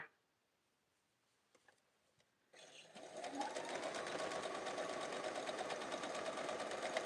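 After a near-silent start with a few faint clicks, a sewing machine starts up and runs steadily, joining red, white and blue quilt patches into four-patch blocks, close and continuous to the end.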